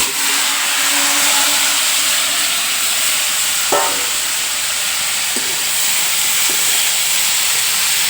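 Steady loud hissing sizzle of vegetable pieces frying in hot coconut oil, continuous throughout with a few faint clinks of a utensil.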